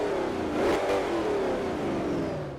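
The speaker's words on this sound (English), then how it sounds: "I'm gonna rev it in the tunnel." A fully built Ford Shelby GT500 engine in Forza Horizon revs hard inside a tunnel, a loud, continuous booming roar with rising and falling pitch that echoes off the walls, no voices.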